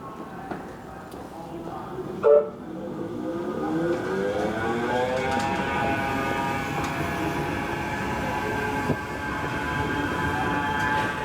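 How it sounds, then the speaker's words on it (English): A Manchester Metrolink tram on the Bury line pulls into a stop, its motor whine rising and falling in steady tones over a constant rolling rumble, with a sharp knock early on. "there's a train to Bury pulling in now"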